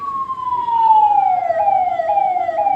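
A police vehicle siren is demonstrated during a visit to a fire station. It gives a loud, close, continuous wailing tone that slowly falls in pitch, with no other sound on top.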